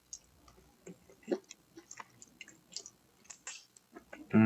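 Close, quiet chewing of a mouthful of rice and curry goat, with irregular soft wet clicks and squishes, ending in a louder bump.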